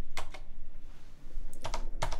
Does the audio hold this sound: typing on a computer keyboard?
yes